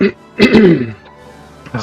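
A single throat clearing, close and fairly loud, with a rough burst in the middle and a smaller cough-like sound at the very end, during a break in a Starship Troopers: Extermination gameplay commentary.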